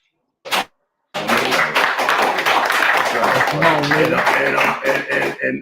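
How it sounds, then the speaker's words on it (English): A single sharp clap is followed after a pause by a group of people clapping steadily and fairly close, with voices mixed in over the applause. "Clap it up."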